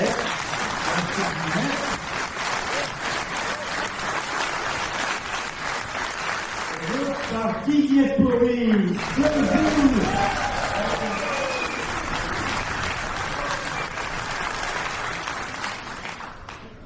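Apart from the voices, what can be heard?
audience applause at an orchestra gala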